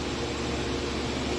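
An air cooler runs close by, giving a steady broadband whoosh of blowing air with an even, unbroken drone throughout.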